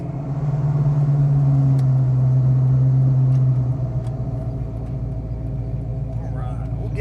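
A 1994 Ford Mustang Cobra with a 5.0 V8 and five-speed manual cruises on the road, a steady low engine drone that eases off partway through, with faint road and cabin noise.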